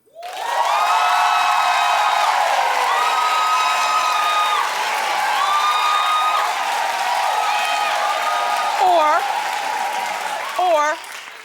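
A studio audience at a live comedy show claps and cheers loudly for several seconds, with whoops and shouts rising over the sustained applause before it tapers slightly.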